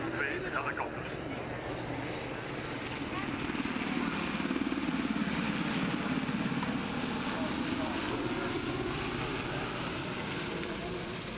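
A Westland Sea King and an NH90 helicopter fly at the Sanicole air show 2015, a steady broad rotor and engine roar that swells slightly mid-way and holds, with an announcer's voice over a loudspeaker.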